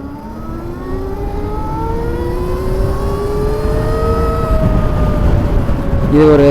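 An Ola Roadster X motorcycle ridden at speed, a steady whirring drone with rising, sweeping pitch as it accelerates, loud and continuous, with a brief rustle near the end.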